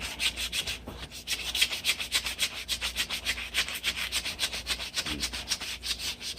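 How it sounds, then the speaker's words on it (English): A wooden hatchet handle, ash or hickory, from a rusty hatchet restoration, hand sanded with quick, regular back-and-forth rasping strokes close up, one brief pause near the start, no talking. "I'm just going to hand sand this thing like that."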